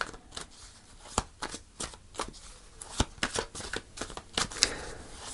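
Tarot cards being shuffled by hand, a series of close, crisp riffling snaps and papery flicks in an uneven rhythm, with no one speaking.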